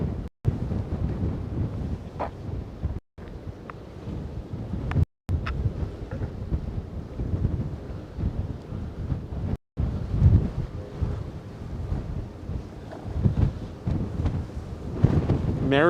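Strong wind buffets a phone microphone on a tripod at a Manhattan waterfront pier park, producing a continuous low rumbling roar with gusty surges and a few brief dropouts.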